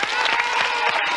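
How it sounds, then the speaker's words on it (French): A TV studio audience claps in a short, dense burst of applause, loud and close, with no voices over it. "Donc c'est parfait, on les applaudit encore."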